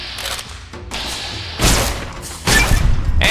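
Elijah's Advanced LAER laser rifle firing in Fallout New Vegas, with loud, broad zapping blasts landing in bursts, the strongest two spaced about a second apart.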